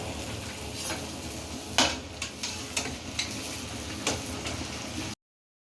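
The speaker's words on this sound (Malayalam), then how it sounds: "ഇപ്പം എണ്ണ തിളച്ച് നമുക്ക് അതിലേക്ക് ഇട്ട് കൊടുക്കാം. നമുക്കിനി പൊരിച്ചെടുക്കണം." Rice pathiri fry in boiling oil, a soft, even sizzle broken by a few sharp clicks and taps from a utensil, then silence at the end.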